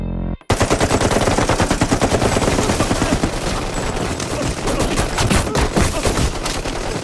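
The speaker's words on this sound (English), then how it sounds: "Oh, that is a lot of firepower." Heavy automatic gunfire from the action film The Raid Redemption, rapid machine-gun bursts rattling loud and almost continuously after a brief silent gap at the start.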